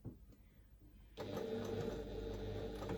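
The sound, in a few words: sewing machine stitching fabric for a pouch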